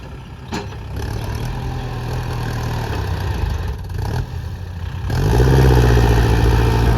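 Kubota L5018SP tractor with a loud aftermarket exhaust pushing a pile of soil, its engine rumbling steadily and close, then revving harder and louder near the end.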